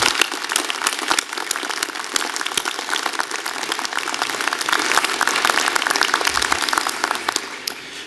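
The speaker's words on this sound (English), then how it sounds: "I'd like everyone to join me in giving these students a round of applause" Audience applause at a university Arts & Sciences convocation ceremony, sustained dense clapping that fills the room steadily for the whole stretch, loud and continuous with no talking over it.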